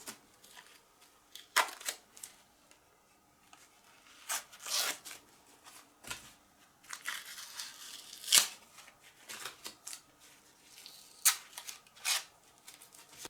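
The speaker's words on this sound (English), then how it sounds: "it should be easy to remove the painter's tape with the glue" Painter's tape crusted with dried carpenter's glue is peeled off in short bursts of crackly tearing and crinkling, close and intermittent, with quiet pauses between pulls.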